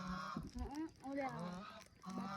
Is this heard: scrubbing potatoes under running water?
no